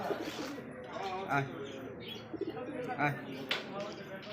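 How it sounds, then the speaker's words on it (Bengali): Hunting pigeons coo softly at a pigeon farm, with low throaty calls and a few chirps mixed with faint background voices, and a brief flutter of wings. "এটা শিকারি কবুতর"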